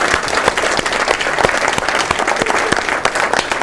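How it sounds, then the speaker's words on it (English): Conference audience at a WordCamp keynote in Dayton applauding the volunteers and organizers, a loud, dense burst of many hands clapping together, close and full throughout. "everybody give a round of applause to the volunteers, organizers"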